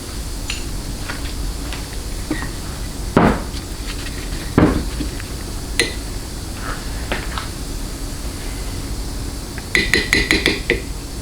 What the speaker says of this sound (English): all I'm going to do is very lightly tap until I could feel it bypass